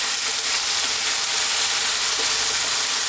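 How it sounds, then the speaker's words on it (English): Beef and eggplant stir fry with oyster sauce hissing and sizzling steadily in a hot wok, a loud, continuous broadband fry with no talk. "Super steaming from the wok."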